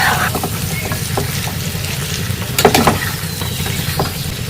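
Marinated chicken stirred into spiced masala in a frying pan for chicken curry, a steady sizzle with scraping stirs and a brief louder clatter midway, close and with no talk.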